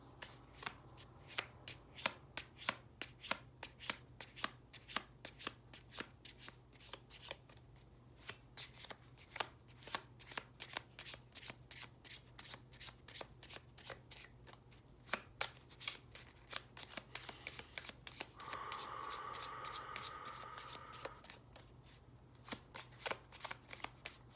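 A deck of thick tarot-style cards shuffled over and over at close range, with rapid crisp riffles and flicks and a longer whirring riffle near the end, no voice over the sound.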